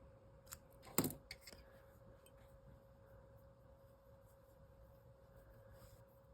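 Scissors snip a crochet yarn tail after a single crochet stitch, one sharp cut near the start followed by a couple of faint snips, then quiet room tone with a steady background hum.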